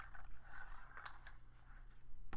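Scissors snip through fabric, trimming away bulk at the seam, with a series of close, crisp cuts repeating through the moment over a low steady hum.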